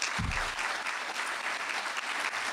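A large audience claps steadily and loudly at a talk, a dense, continuous wash of applause from start to finish.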